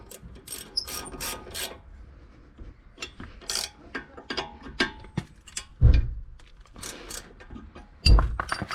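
Ratcheting clicks and metallic scrapes of an 18 mm wrench tightening a brake caliper bolt and locknut on a Dodge Challenger SXT 3.6 V6, in uneven bursts with a couple of heavier knocks, close up.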